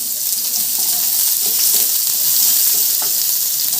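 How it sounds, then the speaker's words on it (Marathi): Garlic and onion frying in a pan of hot tempering oil for a wild-greens thecha, a steady dense sizzle lasting throughout with faint stirring clicks, close and loud, no voices. "लसूण कांदा भाजून घेऊ"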